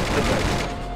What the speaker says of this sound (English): Something I've learnt with the machine gun is it's not very good for